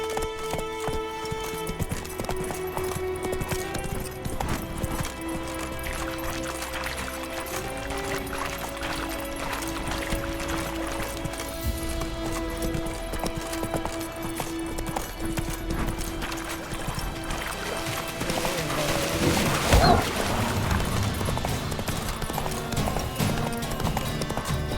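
The horse Roach gallops in The Witcher 3 with rhythmic hoof clip-clop under swelling game music and ambience, and a louder burst of effects near the end.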